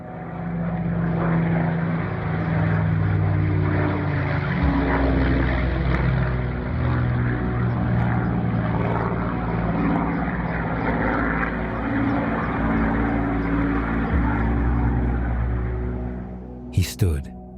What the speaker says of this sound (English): the unmistakable roar of a Rolls-Royce Merlin engine overhead